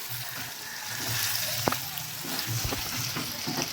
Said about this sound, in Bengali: এইরকমভাবে আমি পনিরটা একটু ভেজে নেবো।